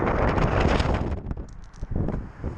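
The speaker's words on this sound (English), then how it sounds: "It's fucking windy" Strong wind buffets outdoors near a pond, a loud rumbling rush that dips and gusts with brief rustling knocks over roughly two and a half seconds.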